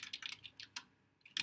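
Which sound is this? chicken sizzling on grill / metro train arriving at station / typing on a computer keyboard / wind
typing on a computer keyboard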